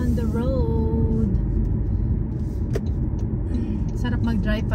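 Car engine and road rumble from a drive on Las Vegas roads, a steady low drone running throughout with a person talking over it.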